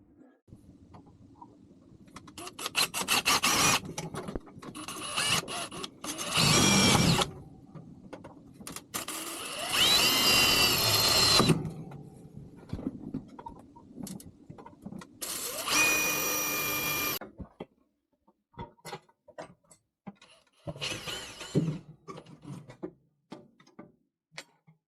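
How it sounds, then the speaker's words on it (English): A power drill pre-drills holes in particle board in several short bursts of whirring and grinding, separated by quiet pauses with small clicks and handling noises nearby. "I'm also going to pre-drill that particle board so it doesn't crack it."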